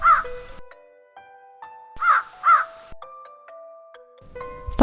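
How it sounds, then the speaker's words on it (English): Crow cawing as a sound effect in a children's bedtime fable about a thirsty crow: several loud, harsh caws in two or three bursts over sustained musical tones, with no talking. "there was a thirsty crow"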